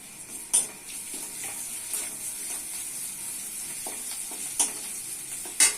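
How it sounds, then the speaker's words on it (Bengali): Ginger garlic paste fries with browned onions in hot oil, a steady close sizzle broken by occasional clinks and scrapes of a spoon against the pan, with no voices. "পেঁয়াজ লাল হয়ে গেছে দিচ্ছি আদা রসুন বাটা"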